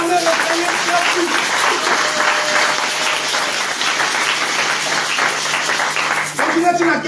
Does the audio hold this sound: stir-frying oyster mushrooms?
no